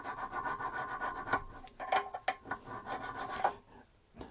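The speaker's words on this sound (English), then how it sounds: "if you're using a file, go easy with it" A metal file rasps rust from the front brake carrier of a 2007 Mk 3 Ford Ranger 2.5, giving steady scraping strokes at close range with a few sharper scuffs and no talk.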